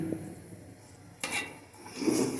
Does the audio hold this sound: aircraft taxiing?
no